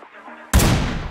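A single loud, sharp AMR sniper rifle shot from the mobile battle royale game BGMI bursts out after a brief quiet stretch, followed by a booming tail that fades slowly.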